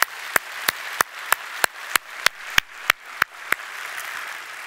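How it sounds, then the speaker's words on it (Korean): A church congregation at a thanksgiving night service claps together in unison. About a dozen sharp, evenly spaced claps ring over a soft wash of scattered hand-clapping. "하나님께 영광의 박수 한번 올려드리도록 하겠습니다"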